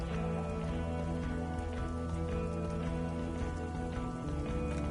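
Steady rain falling across a city district in a video game, a dense continuous hiss with soft patters layered over a low ambient hum, no voices.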